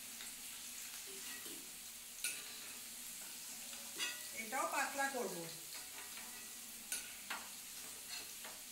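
Paneer fries quietly in a pan at a home stove, giving a soft continuous sizzle broken by sharp utensil clicks and stirring scrapes, while someone talks briefly over it.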